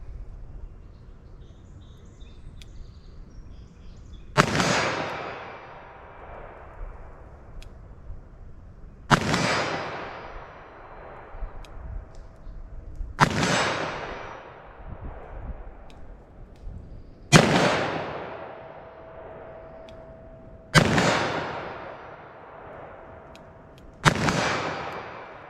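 Six sharp .357 Magnum gunshots firing Xtreme Defense bullets at a 40-yard target ring out outdoors, spaced roughly four seconds apart, each a loud crack with a long fading echo over quiet background.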